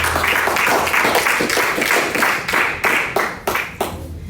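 A church congregation applauds, a dense burst of hand clapping that thins into scattered, fading claps over a few seconds, fairly close and without talk.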